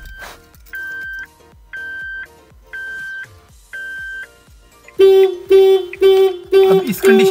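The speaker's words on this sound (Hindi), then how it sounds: "गाड़ी अनलॉक कर ली, ये देखिए बीप देना शुरू हो गई है।" A 2021/22 Suzuki Alto VXR 660cc immobilizer beeps after the car is unlocked: five evenly spaced electronic tones about a second apart, followed by a louder, harsher run of pulsing beeps close by.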